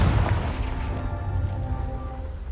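A Confringo spell blast in Hogwarts Legacy: one heavy, loud boom that rolls out at once and fades into a low, rumbling tail over a couple of seconds.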